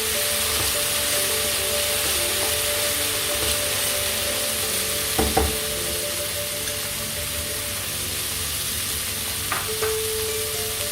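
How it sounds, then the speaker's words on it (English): Slightly frozen vegetables with roasted peanuts stir-frying in a pan over really high heat, a loud continuous sizzle with a few brief clinks of a utensil stirring, no talking. "Now we'll add all the veggies. Just stir fry them."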